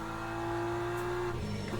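A race car engine in the Le Mans Ultimate sim at Circuit de la Sarthe drones loudly and steadily with a strong tonal whine, then shifts pitch as the driver eases back onto the power.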